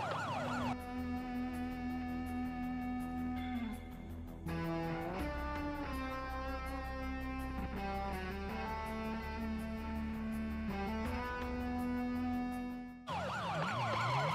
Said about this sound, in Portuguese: Trocando a porra da minha sirene em cada cidade que eu for passar